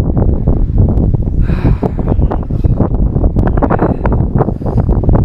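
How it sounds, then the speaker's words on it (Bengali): Strong, cold gusty wind at a 13,479-foot mountain pass in Ladakh buffets the microphone in loud, rumbling bursts, continuous throughout with no voices. "প্রচণ্ড হাওয়ার শব্দ শুনে তোমরা বুঝতে পারছো আশা করি কতটা ঠান্ডা"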